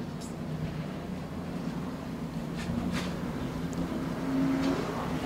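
Super late model stock cars race around a short oval track at night, their engines a steady, fairly distant drone that swells slightly toward the end, with crowd-area ambience and no talk.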